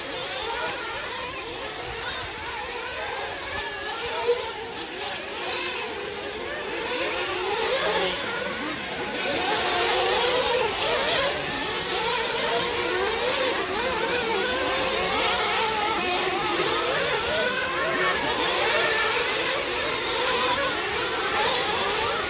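A pack of 1:8 scale nitro off-road RC trucks racing in a fuel nationals final, a continuous high-pitched buzzing whine of several small engines revving and overlapping, steady and loud for the whole stretch with no talking.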